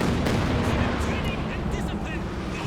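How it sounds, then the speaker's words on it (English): Katyusha rocket artillery fires in a Company of Heroes 2 multiplayer battle, a dense, roaring barrage of launches and explosions that fills the scene continuously with steady, heavy rumble. "A couple of Katyushas now."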